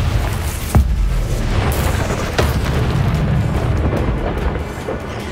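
A Confringo explosion spell in the video game Hogwarts Legacy goes off with a loud booming blast. A second smaller burst follows, both over a dense, rumbling background that stays loud throughout.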